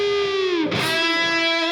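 Distorted electric guitar lick from a solo: a sustained overdriven note dives sharply down in pitch, then rings on at a steady pitch, loud and alone.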